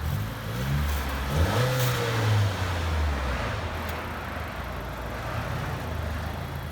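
A 2018 Honda Accord 1.5L four-cylinder with dual exhaust and muffler delete revs up with a deep, throaty exhaust growl, then settles back into a low rumbling idle.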